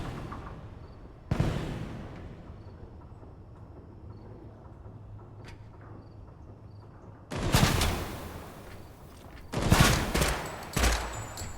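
Enemy gunfire in a video game set in the dark: a sharp shot early, then long loud bursts of rapid automatic fire later, separated by quieter stretches of low background rumble.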